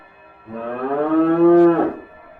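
Cattle lowing from a cornfield outside a house at night, a single drawn-out, loud moo rising and swelling for about a second and a half before breaking off.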